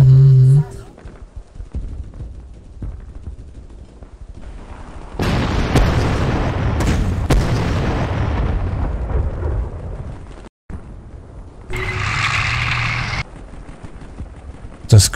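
Artillery fire in the strategy game Panzer Corps: a few sharp booms followed by a long rumbling burst of explosions in the middle, then a later blast, with someone speaking German at moments.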